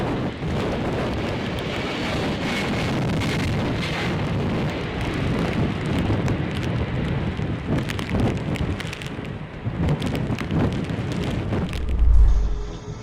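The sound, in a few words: heavy rain and storm during aircraft go-around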